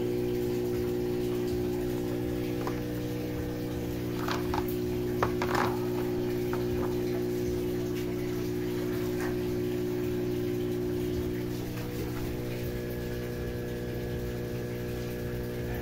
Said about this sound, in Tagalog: Lagyan natin ng air pump.